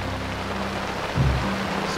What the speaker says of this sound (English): We're just getting the first, well, the biggest wave of rain so far.